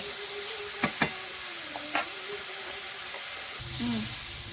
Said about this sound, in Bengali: শুধু এবার মশলাটা আমি কষতে থাকবো।